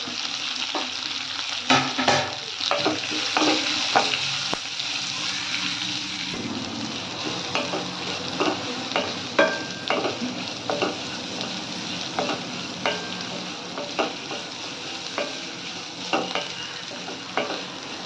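Onion, carrot, green chili and curry leaves stir-fried in a pan for upma, giving a steady loud sizzle with repeated scraping stirs throughout, no voices.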